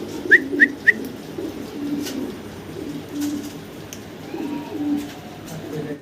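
Fancy pigeons at a wholesale pigeon market coo quietly, opening with three quick calls, then softer murmuring coos against low background chatter.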